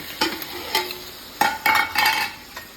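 Spice masala frying with boiled potatoes in a pan for a chhanar dalna, a steady soft sizzle broken by several sharp spatula scrapes and stirring clatters, close and fairly loud.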